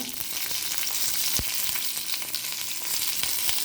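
Curry leaves, dried chillies and lentils crackle and sizzle in hot oil over high heat, with a dense, steady frying hiss broken by sharp pops and the scrape of quick stirring.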